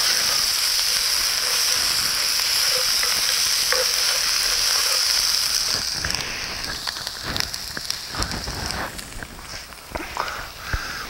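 Garlic and red beans being stirred in a hot pan, a bright steady sizzle with scraping stir strokes that grow more irregular and clattery in the second half, no talking.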